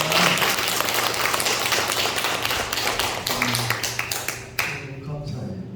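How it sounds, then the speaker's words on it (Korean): A church congregation claps at a Korean Sunday evening worship service, a dense crowd of hands sounding steadily, with sharper individual claps standing out as the applause thins toward the end. "박수로 하나님 영광 돌리겠습니다."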